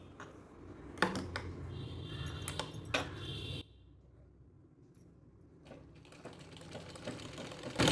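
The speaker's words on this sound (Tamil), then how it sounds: "அப்படியே சுற்றி ஒரு படிமான தையல் போட்டுறேன்" A sewing machine stitches around a strip of old waste cloth folded like tape, running in close, busy bursts, pausing briefly near the middle, then whirring again.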